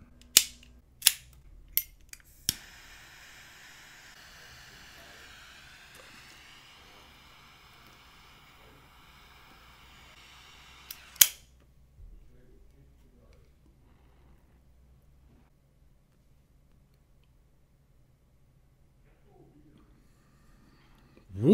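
A Room101 Farce Maduro Corona cigar being cut and lit: several sharp snapping clicks, then a steady lighter hiss for several seconds, another loud click, and a long quiet stretch afterward.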